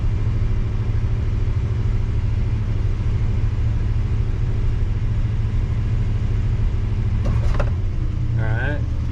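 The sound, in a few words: car engine revving while parked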